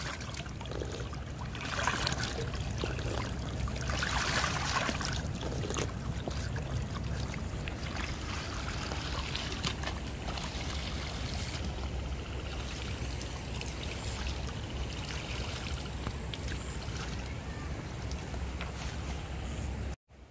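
Cold spring water flows steadily beside the River Swat at Kanju, a continuous close rushing and trickling wash that holds evenly for about twenty seconds with no voices over it.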